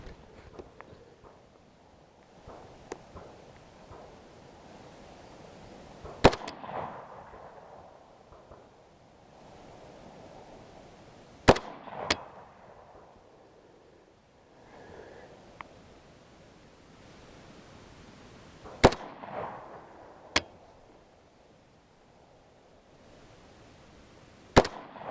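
Shots from an AK-74M rifle fitted with a PSO-1 scope, several sharp loud reports spaced a few seconds apart, each with a short echoing tail over a quiet outdoor background.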